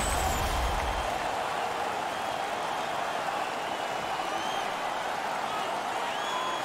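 A hockey crowd in an arena in Saguenay roars in a broad, steady wash of cheering and noise, distant and sustained for the whole stretch, with no single voice standing out.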